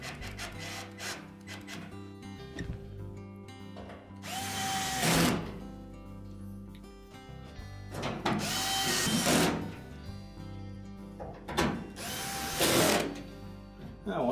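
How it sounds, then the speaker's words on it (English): Cordless drill driving screws into the back panel of a Whirlpool washing machine, with several short whirring bursts separated by handling noise and pauses, close up and without talking. "Then just line up the screw holes and install the screws."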